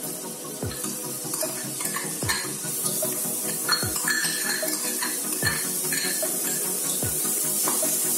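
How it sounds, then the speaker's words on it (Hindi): Onions sizzle steadily in a pan with garam masala while being cooked for shahi paneer, with a spoon scraping and stirring at regular intervals of roughly a second and a half over the constant frying hiss. "प्याज को भी हमें करीब 2 मिनट तक धीमी आंच पे भूनना है।"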